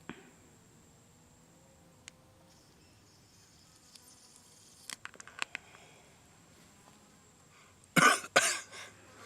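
A short burst of coughing from someone who has just inhaled deeply from a vape, coming after a stretch of near silence with a few faint clicks.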